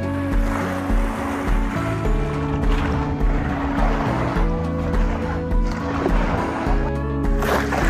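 Strong sea waves wash continuously onto the shore of Pulau Aman island off Penang, Malaysia, a loud, steady roar of surf with churning water close by and no voices.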